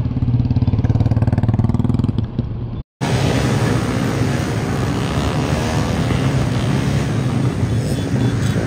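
A loud, steady motorcycle engine rumbles close by, cutting out for a brief moment before droning on again without a break.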